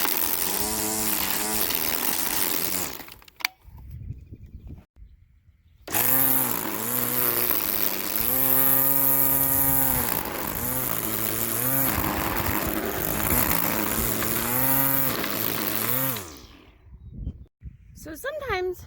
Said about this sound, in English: So I'm gonna do some weed whacking and clear it right up.